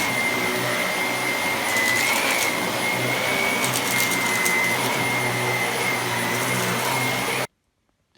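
A Dyson DC25 upright vacuum cleaner runs with a loud, steady high-pitched whine and airflow roar for about seven seconds before stopping abruptly.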